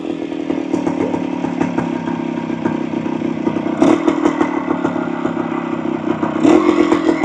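A restored 1975 Kawasaki F11B 250 motorcycle runs close by, its engine a loud, busy clattering buzz that holds steady and swells briefly twice as the throttle is blipped, with no voices.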